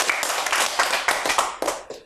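A small audience claps for a child's poem recital at a Mother's Day program, with a few people clapping close by in a quick, uneven rhythm that thins out toward the end.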